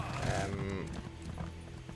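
Rhythmic clip-clop of horse hooves in The Elder Scrolls Online, steady and close, with a brief whinny-like tone in the game soundtrack.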